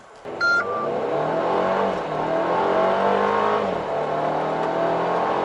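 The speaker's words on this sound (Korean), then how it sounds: "스포츠 모드에서 급가속을 하면 약간 이런 느낌이 나죠." A Mercedes GLB250 4Matic accelerates hard in sport mode, heard from inside the cabin as a rising engine and turbo whir that climbs through gear changes, with a short electronic beep near the start.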